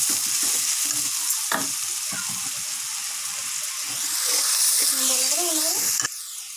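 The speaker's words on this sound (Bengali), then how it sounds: "এখন এই মশলাগুলো আমি সব তেলের মধ্যে ছেড়ে দিচ্ছি।" Whole cumin and crushed whole garam masala sizzle in hot oil with a loud, continuous frying hiss while a spoon stirs them in bursts, and a brief whistling tone rises near the end.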